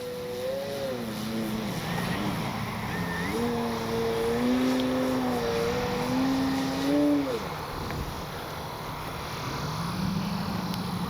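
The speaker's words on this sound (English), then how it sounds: "Fabulous flying plane." A small 20cc gas-engine Hangar 9 Valiant model airplane drones overhead, its pitch rising and falling as it climbs and passes, fading toward the end.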